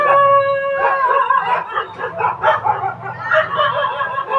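A dog barks and howls loudly at close range, with long wavering howls giving way to rougher, choppier barking and yelping throughout.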